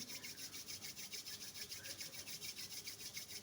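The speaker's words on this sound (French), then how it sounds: "Donc, on les frotte l'une contre l'autre." Two hands rub briskly against each other to warm up, a rhythmic dry swishing repeated about a dozen times, close and quiet with no talking.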